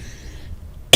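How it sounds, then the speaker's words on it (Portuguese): A woman coughs once, sharply and loudly up close, right after a quiet stretch with faint background tones. "guria, essa tosse."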